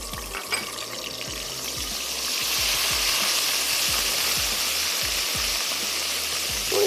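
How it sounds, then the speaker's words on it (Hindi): Garlic and ginger paste sizzles steadily in hot oil in a pan, a loud continuous frying hiss that grows slightly stronger midway, with faint low clinks beneath and no voices. "ऑयल भी गर्म हो रहा है, हम इसमें ऐड कर देते हैं लहसुन और अदरक का पेस्ट।"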